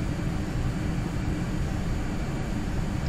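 Steady, loud drone of a small aircraft engine throttling up for thrust on landing approach into Telluride, a continuous broadband roar with no pauses and no talk.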